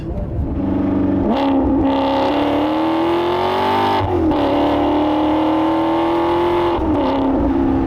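A Maserati GranTurismo MC Stradale engine roars loudly and steadily from inside the car while driving in race mode, its pitch climbing and then dropping sharply at a few gear changes.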